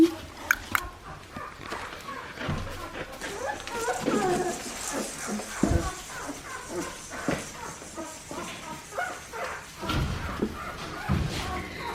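Australian Shepherd puppies whimper and yip in a busy cluster of soft, high cries close by, mixed with shuffling and occasional voices nearby.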